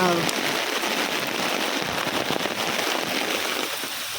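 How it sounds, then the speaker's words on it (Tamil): Heavy rain drumming on an umbrella during a walk in the street, a steady close patter with a few sharper taps. "நல்ல மழை"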